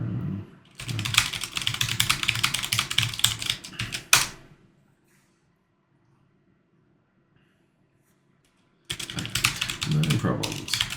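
Rapid typing on a computer keyboard, close and clattery, in a dense burst of keystrokes that stops, leaves several seconds of near silence, then resumes.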